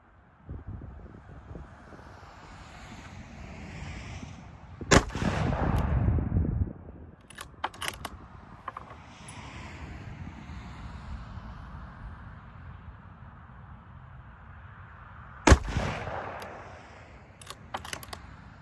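A Bergara B14 rifle firing 165-grain rounds outdoors gives a few sharp, loud cracks spaced well apart, each trailing off over steady wind noise.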